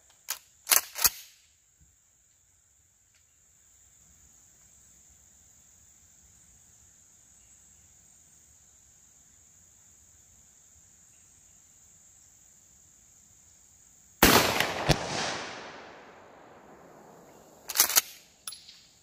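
Mossberg 500 shotgun fitted with a Carlsons rifled choke firing at an outdoor range: two sharp, loud blasts several seconds apart, each followed by a rolling echo, over a steady background of chirping insects.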